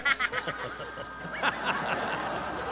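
A telephone rings indoors in repeated short bursts of bright ringing tones, fairly close, over a faint background murmur.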